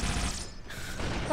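A needler is reloaded in Halo 2, a short run of mechanical clicking and ratcheting, fairly quiet and close, with no talking.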